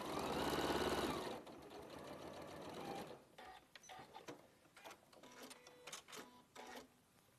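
Sewing machine stitching fabric, a steady fast whirring run of about two seconds, then quieter clicks and mechanical taps as the fabric is handled, close and alone.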